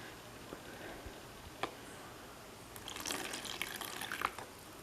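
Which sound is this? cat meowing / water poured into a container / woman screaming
water poured into a container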